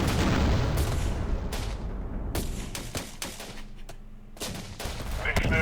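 Sharp, loud bursts of gunfire and heavy auto grenade launcher thumps crack out at irregular intervals in a Syrian Warfare battle for Aleppo, some shots close and punchy with quieter gaps between them.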